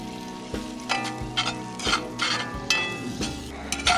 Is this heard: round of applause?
no